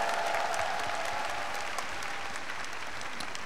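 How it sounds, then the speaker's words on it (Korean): A concert audience at a strike benefit concert applauds in welcome as the union choir and band come on stage, a steady wash of clapping held at an even level throughout with no talk over it. "박수로 맞이해 주시기 바랍니다"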